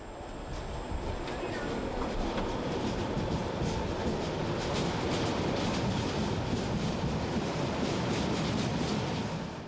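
A Class 143 electric locomotive hauling a train through the Nuremberg rail hub, a loud, steady rumble and clatter of wheels on track that lasts the whole time, with a faint high tone.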